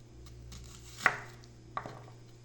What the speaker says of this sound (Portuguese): E vou picar essa cebola assim.